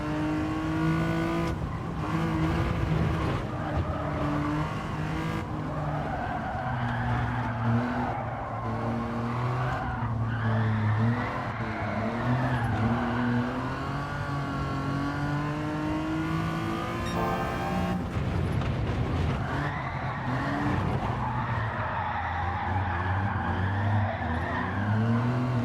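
Car tires squeal and skid steadily while drifting in the Gran Turismo 7 racing game, with sliding pitch sweeps over a revving engine and no talk.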